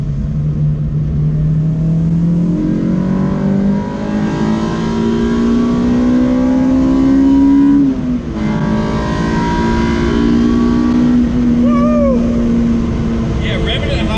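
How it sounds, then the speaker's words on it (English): A K20-powered Honda Civic EG engine revs hard and climbs steadily in pitch, drops briefly, then winds up high again, loud and droning throughout. "revving it high is just where it's at"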